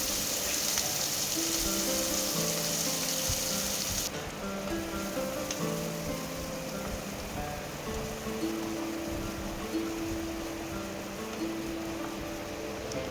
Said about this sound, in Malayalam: പിന്നെ അതിലേക്ക് നമ്മൾ അരിഞ്ഞു വെച്ച സവാളയും കൂടെ ചേർത്തിട്ട് നന്നായിട്ട് വഴറ്റിയെടുക്കാം